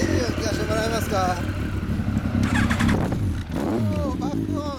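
A nearby 1997 Triumph Daytona T595 motorcycle with an Akrapovic exhaust rumbles and revs in short bursts, with people talking over it.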